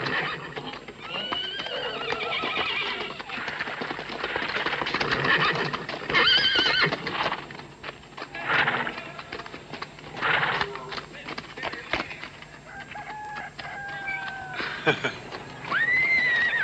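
A horse neighs and whinnies repeatedly alongside a young colt, with hooves clip-clopping on the ground in a 1965 Western film scene; people talk over it throughout, and the whinnies rise above the talk several times.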